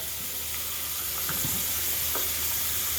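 Makeup brushes rinsed under running water, a steady hissing wash of flow lasting throughout with faint intermittent splashing, close and even in level.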